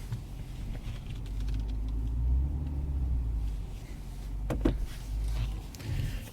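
A Lexus GS F 10th Anniversary Limited with an 8-speed automatic drives along, its low engine and road rumble steady and muffled from inside the cabin, with a brief bump midway and no talking.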